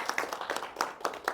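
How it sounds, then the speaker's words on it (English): A small Rotary meeting audience applauding a speaker, sparse, distinct hand claps at close range, soft and brief. "Give her a round of applause."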